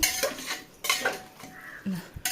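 Beef curry with curry leaves being mixed in a pot, a few sharp scrapes and clinks of a spoon against metal in separate bursts, close and fairly loud with no talk.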